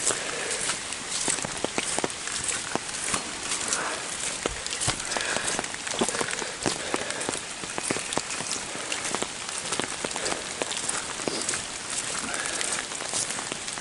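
Steady rain patters on leaves and the ground in the woods, a dense continuous hiss with scattered sharp drips throughout, and occasional soft footsteps underneath.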